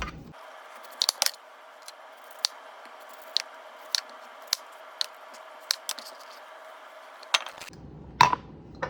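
Knife cutting the waxy peel off a jicama on a cutting board: a series of sharp, separate slicing and scraping strokes at irregular intervals over a faint steady background, close and fairly quiet, with no talking.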